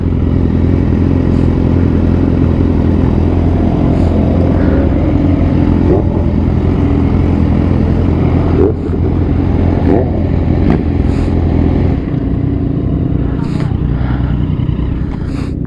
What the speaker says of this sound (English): Bike is running good.